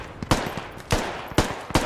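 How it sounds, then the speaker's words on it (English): Gunfire in a US Army video game: four sharp, loud bursts spaced irregularly, each a short crack with a brief decaying tail, no talk between them. "that friendly fire?"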